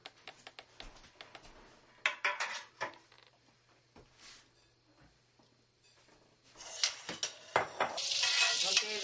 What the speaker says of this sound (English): Okay, this is nice and sizzling hot.